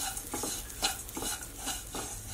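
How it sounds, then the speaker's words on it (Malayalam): A spoon stirring roasted coconut filling in a pan for stuffed pazham pori, making soft repeated scraping strokes against the pan, close and faint. "അതൊന്ന് നന്നായിട്ട് ആയി കിട്ടുന്നവരെ ഒന്ന് ഇതുപോലെ ഇളക്കി കൊടുക്കണം"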